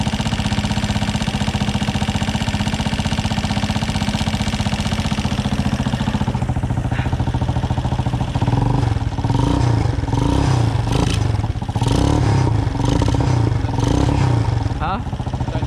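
Small gas engine fitted to a modified Power Wheels Ford F-150 ride-on toy truck, sputtering and idling roughly before catching and running steadier with a clattering, knocking rhythm up close, with people talking over it.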